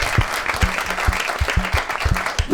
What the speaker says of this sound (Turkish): Bir alkışalım herkese.